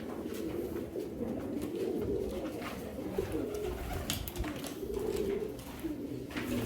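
Pigeons, including Lotan birds, coo steadily in a loft, a dense low murmur of overlapping calls that continues throughout.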